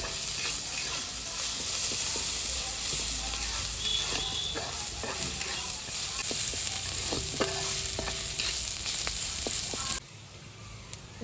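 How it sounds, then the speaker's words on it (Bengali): Chopped onion and green chili, added with ginger, sizzle steadily in hot oil in a pan, with close spatula clicks and scrapes throughout before the frying drops quieter near the end. "পেঁয়াজ কুচি দিয়ে দিলাম এবার লঙ্কা কুচি হালকা করে একটু ভেজে নিয়েছি"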